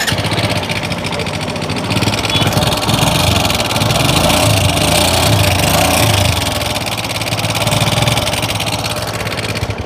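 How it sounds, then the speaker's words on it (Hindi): A TVS Apache motorcycle engine with an abnormal noise after servicing runs close by, a loud, steady mechanical clatter and rough drone continuing throughout, without any speech. "एग्जॉस्ट से साउंड ज़्यादा इंजन का आवाज़ है।"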